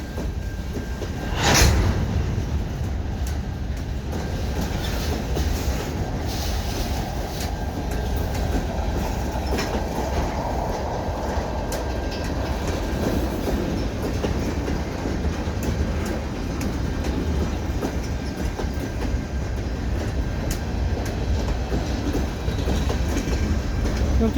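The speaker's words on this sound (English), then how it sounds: "I just got this train car crossing the bridge, and here it comes again, coming back to get more." A freight train rolls steadily across a bridge for the whole stretch, its cars rumbling and clattering on the rails with a continuous heavy, close roar.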